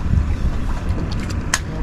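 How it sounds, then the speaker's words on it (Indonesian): A gentle breeze rumbles across the microphone during a fishing trip on the water, a steady low buffeting with a few brief clicks and no clear talk. "Angin sepoi-sepoi."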